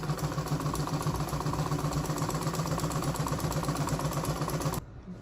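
Sewing machine stitching a seam on a button-down strap dress with pockets, a steady, fast, even mechanical whirr that runs continuously and stops abruptly near the end.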